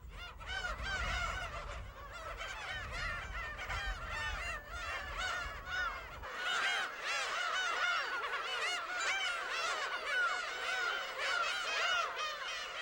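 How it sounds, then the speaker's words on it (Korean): A dense chorus of black-tailed gulls calls continuously, with many overlapping mewing, cat-like cries. A low rumble underneath fades out partway through. "울음소리가 고양이를 닮았다 하여 이름 붙여진 괭이 갈매기"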